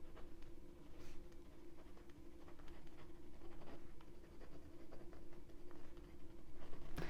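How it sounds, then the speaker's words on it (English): A pen that barely works scratches across paper in short, soft strokes, close and quiet over a faint steady background hum. "I have to write that down."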